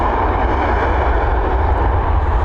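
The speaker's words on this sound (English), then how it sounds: "Here we go, Lufty Lufthansa now on departure." Lufthansa Airbus A321 departing Dublin Airport, loud sustained jet engine roar with a broad rumbling drone, steady and close, no talk.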